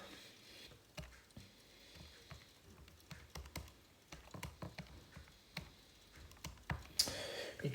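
Keys on a computer keyboard are tapped in irregular bursts of sharp, fairly close clicks, with short pauses between runs while numbers are entered.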